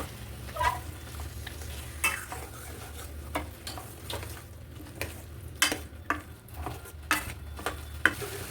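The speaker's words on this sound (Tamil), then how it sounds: "இப்போ இது எல்லாமே வந்து நல்லா வதக்கி விட்டுடலாம் எண்ணெயிலே." Spices with homemade kuzhambu chili powder sautéed in oil for a cowpea curry, stirred steadily with a utensil that scrapes and clinks against the pan over a soft continuous sizzle, close by, with no talking.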